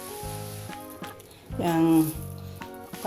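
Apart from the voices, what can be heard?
fried shallots added to snapper curry, sizzling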